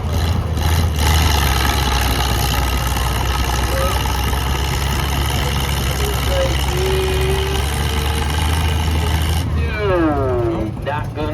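An antique tractor's engine labours under load during a tractor pull at an antique equipment show, a steady loud rumbling drone throughout, with voices of people talking underneath.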